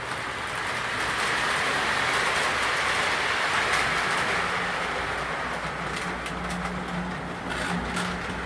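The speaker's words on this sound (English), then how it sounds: "Always fun to run a train." A model train running on a layout, a steady close rumble with faint clicking wheel noise throughout, unbroken and without voices.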